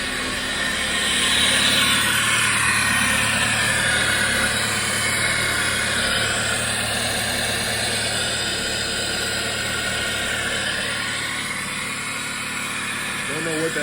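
A 2015 Chrysler 200 idling with a strange fault noise, a steady broadband engine drone with a high hiss that stays fairly constant throughout.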